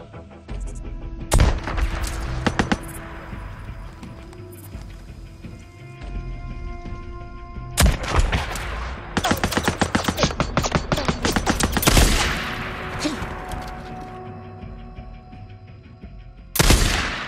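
Bursts of automatic gunfire and single shots ring out in the Days Gone video game, several loud volleys with sharp cracks and ringing echoes, separated by short pauses, with no talk.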